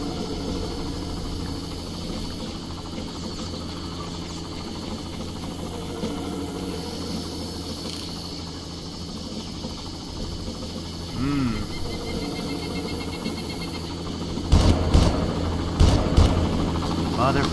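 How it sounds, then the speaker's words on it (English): A helicopter flies in the Far Cry video game, a steady droning rotor and engine roar filling the scene, with louder clattering bursts and game effects near the end. "And a helicopter."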